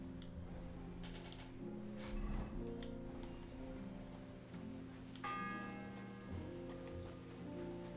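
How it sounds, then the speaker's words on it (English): A church bell tolls in the medieval game Kingdom Come: Deliverance II, its ringing strikes landing at intervals over a steady hiss like rain. The bell sits mid-distance and fairly faint. "The first bell."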